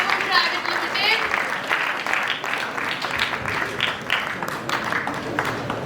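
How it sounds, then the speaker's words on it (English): An audience claps for a startup team at an international pitch competition, a broad sustained wash of applause with a host's voice speaking over it. "Can we have a huge round of applause for Pickable Private Limited?"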